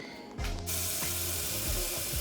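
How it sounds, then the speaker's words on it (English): Tap water runs steadily into a sink in a home kitchen while a sweet potato is being prepared for steaming, starting abruptly after a brief quiet moment and continuing as a close, even rush. "Water."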